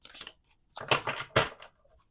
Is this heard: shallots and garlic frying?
no